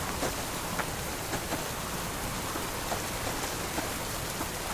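Steady rain falls in the Subsistence survival game, a dense, even hiss of drops spattering on surfaces with faint scattered ticks, continuous and fairly close throughout with no voices.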